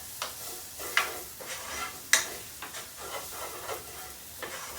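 Onions and spices sizzle over moderate heat in a pan for Hungarian cooking, a soft steady frying hiss broken by a few stirring clicks and scrapes, close and fairly quiet with no talk.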